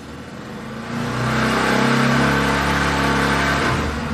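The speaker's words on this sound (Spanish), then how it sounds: "vamos a acelerar la motocicleta a 4000 RPM." A nearby Pulsar 200 NS motorcycle engine revs up from idle, climbing to a loud sustained whir at 4000 RPM and holding there before easing slightly.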